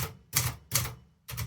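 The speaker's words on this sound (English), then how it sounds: "strike the key with the tip of your finger and release it" Manual typewriter keys struck sharply with a fingertip and released, giving three crisp, evenly spaced clacks with short pauses between them, close and clear with no talking.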